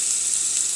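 Beef pot roast browning in an Instant Pot, a steady close hiss of searing meat with no pauses over a brief moment.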